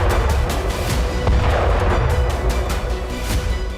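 A gas pipeline explodes at night at Rososhka in Zakarpattia, Ukraine. There is a continuous loud, rumbling roar with repeated sharp cracks and pops, dense and steady throughout, and no voices.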